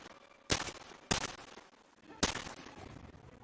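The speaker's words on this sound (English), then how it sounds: "I think 3 shots landed on the body there with the more than fully powered pneumatic" Three sharp shots from a fully charged pneumatic air rifle in the video game Metro Exodus, spaced unevenly over a few seconds, each a crisp loud crack with a short tail over quiet ambience.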